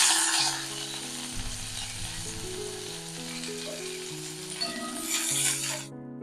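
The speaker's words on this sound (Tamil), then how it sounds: "எண்ணெய் விட்டுருக்கேன் கடாயில். கருவேப்பிலை ஒரு 2 கைப்பிடி சேர்த்துக்கலாம்." A couple of handfuls of curry leaves fry in oil in a kadai, crackling and sizzling loudly and continuously with a soft tonal hum underneath and no talking.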